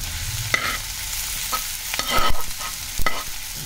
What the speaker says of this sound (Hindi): और इसको अच्छे से लगातार हिलाते हुए भुनना है जब तक कि इसका कलर चेंज ना हो जाए